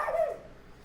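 A dog lets out a single short whiny yelp or whimper close by, then quiet room noise remains; no talking.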